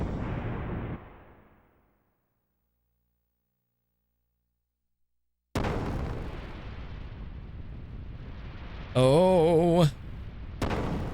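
Ship cannon fire in the video game Xenogears: a loud booming blast that fades into silence, then a long rumbling barrage with a brief warbling tone and a final burst.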